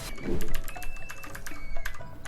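Computer keyboard keys, Z and Shift, pressed during PC game play, a quick run of clicky keystrokes close to the microphone, uneven taps with no speech.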